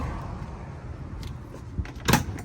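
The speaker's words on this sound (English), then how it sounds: "I want to open up the door this way." The rear door of a camper van is opened, with a soft latch click followed by a sharper clunk of the door releasing, faint over quiet background hiss.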